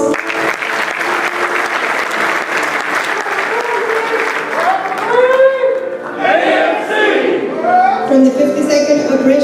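Applause at a military NCO academy graduation ceremony: a crowd claps steadily and loudly, thinning out near the end as voices and cheers break through.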